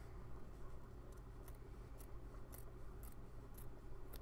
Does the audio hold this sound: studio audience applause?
no